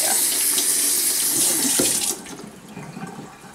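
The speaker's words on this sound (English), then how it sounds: "And then I rinse my hands off real good." Tap water runs steadily into a sink as hands are rinsed after bathing a Yorkie, a full broadband rush that drops to a quieter trickle partway through, with no talking.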